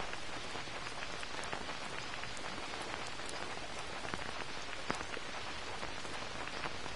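Steady, dense rain pours in a video game, an even hiss with scattered droplet ticks throughout and no voices.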